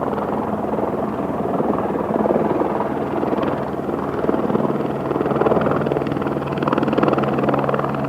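A helicopter flies near Thief River Falls, its rotor chop and turbine whine heard as a loud, steady, throbbing drone from on board with no talking.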